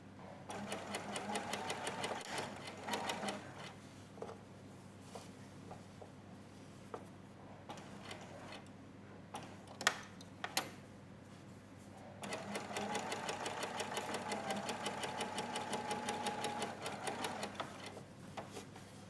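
A domestic sewing machine stitches coat fabric in two sustained runs of rapid, steady needle clatter, broken by a quieter middle stretch of a few isolated clicks and handling knocks, close and clear with no talking.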